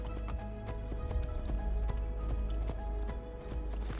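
Horse hooves clip-clop at a steady trot in the Assassin's Creed Brotherhood video game, an even rhythmic clatter close up over a low background hum.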